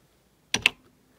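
Two quick, close keystrokes on a vintage vTech Precomputer 1000 keyboard, crisp plastic clicks in an otherwise quiet room.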